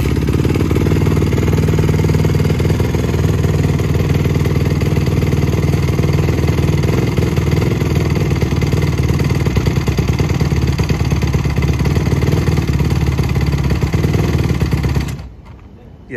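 A 2007 Honda CRF150R dirt bike with a new OEM carburetor runs close by with a loud, steady engine drone that stalls and cuts out near the end.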